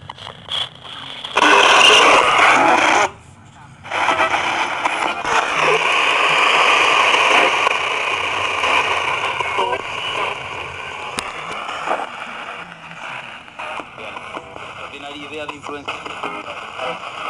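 Modified Frank's box radio plays through a speaker, sweeping across stations with loud, continuous hiss and static, a brief dropout near three seconds, then steady choppy static with fragments of broadcast voices.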